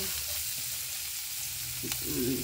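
Onion and garlic sizzling in a pan for garlic shrimp, a steady close fry with a brief scrape and a louder crackling surge at the end, no voices.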